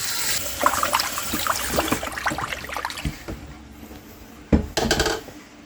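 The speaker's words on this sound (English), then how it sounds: "the next step is to add 1 gallon of water to our soup" Water splashes and pours into a soup pot, about a gallon, rushing at first and then trickling, followed by a short burst of pouring near the end.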